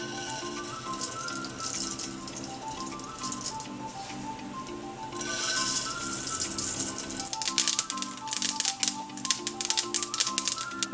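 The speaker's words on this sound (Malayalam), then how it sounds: "ഇപ്പോൾ കടുകെല്ലാം പൊട്ടി" Mustard seeds crackle and pop in hot coconut oil, a dense rapid patter of sharp spluttering bursts that grows louder and busier in the second half.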